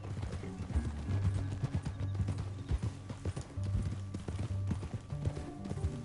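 Horses gallop across rough canyon ground in Red Dead Redemption 2, rapid clip-clop hoofbeats pounding in a driving rhythm, close and loud, with brief snorts and whinnies mixed in.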